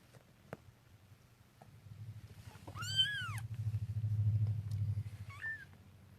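A mother cat lets out a rising, drawn-out meow near her kittens, followed by a shorter chirping call, over a low rumbling purr-like hum close by, with no talking.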